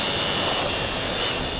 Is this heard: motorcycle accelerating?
yes